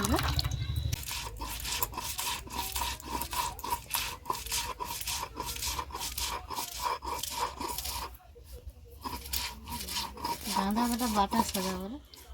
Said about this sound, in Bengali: এবার গাঁদা পাতাটা বেটে নেব